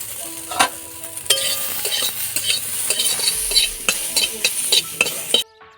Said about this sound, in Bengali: নুন দিয়ে আমি একটু ফুলকপিটা ভেজে নেব